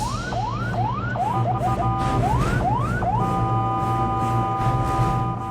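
An ambulance siren on the Jakarta-Tangerang toll road rises and falls in a loud wail, switches to a fast yelp, then settles into a steady tone above the low rumble of road traffic.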